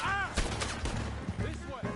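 Gunfire in Red Dead Redemption 2 during a shootout with the O'Driscolls, a few close sharp shots mixed with shouted voices and in-game noise, fairly quiet overall.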